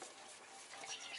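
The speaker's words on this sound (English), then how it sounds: "Oil's already dripping." Motor oil dripping and trickling from a loosened drain plug into a drain pan during a DIY oil change, a steady faint liquid patter that continues unbroken.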